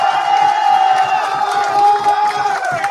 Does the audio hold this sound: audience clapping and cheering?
yes